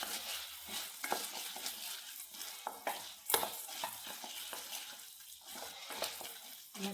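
Popcorn stirred through melted butter and sugar in a pot, a soft steady sizzle broken by scraping and light clinks of the spoon, fairly quiet and close, with no one talking.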